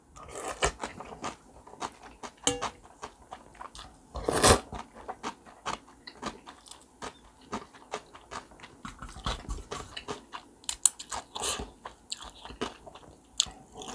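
Cold water-style bibim noodles are eaten right at the mic, with wet chewing, slurps and crunchy bites that come in uneven bursts, and one louder bite near the middle.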